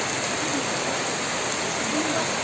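Steady broadband hiss of rain falling, constant and even throughout with no pauses, close by and fairly loud.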